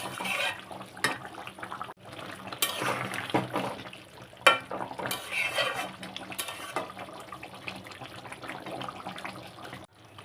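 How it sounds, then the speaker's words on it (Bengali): Water pours into a pot of chicken curry with potatoes, a steady splashing, running flow lasting the whole stretch with a few louder surges, close by and without talk. "এখন অল্প জল দিলাম"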